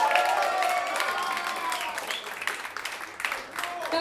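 An audience at a live funk concert claps in warm, sustained applause, dense and fairly close, with lingering band tones fading underneath.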